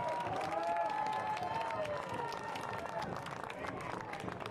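The stadium crowd at a Forward Madison FC versus Chattanooga Red Wolves football match applauds and cheers as a player is substituted off, a broad, fairly distant swell beneath a commentator's voice.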